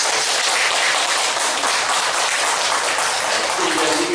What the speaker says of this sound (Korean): 우리 어린이들 위해서 다시 한번 격려 박수 한번 보내주세요